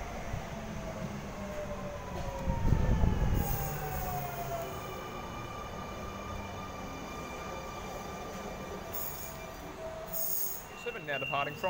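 A Sydney M-set electric train, set M27, pulls away from platform 4 at Pendle Hill station on a Schofield service, its rising motor whine and wheel noise building steadily, with a brief louder rumble near the start.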